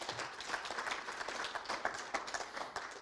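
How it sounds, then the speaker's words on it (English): An audience at an expo applauds steadily, a dense patter of many hands clapping throughout with no pause. "Give them a clap, please."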